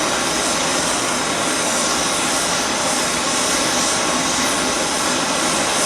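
A MAP gas torch roars steadily and loudly while heating a massive forged steel digging bar at a blacksmith's forge, a continuous close broadband hiss with no pauses or talk.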